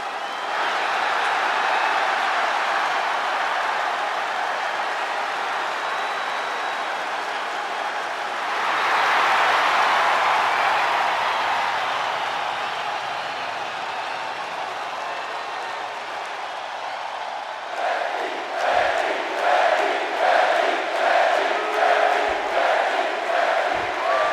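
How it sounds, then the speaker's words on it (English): A capacity arena crowd in the WWE 2K25 wrestling game roars steadily at the opening bell, swelling midway before rhythmic clapping and chanting take over near the end. "That's the bell, and this capacity crowd is ready to see Becky Lynch in action"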